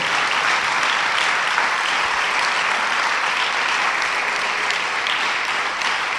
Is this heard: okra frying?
no